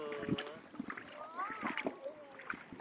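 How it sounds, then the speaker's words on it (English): Small waves lap gently at a child's feet on a beach, soft splashing and gurgling water at close range, with voices talking over it. "Look at the little waves on your foot."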